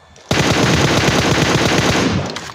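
Automatic rifle fire in a battle royale video game, one loud sustained spray of rapid shots lasting about two seconds, close and dominant, then cutting off.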